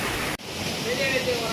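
Water from Kolla Bailu waterfall near Madanapalle pours into a pool below, a continuous hissing rush heard close by after a brief cut near the start.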